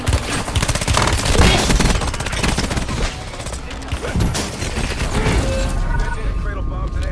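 Rapid bursts of video game gunfire from College Football 27 crackle and boom continuously at close range, layered with music and in-game effects, while a game voice talks over the battle.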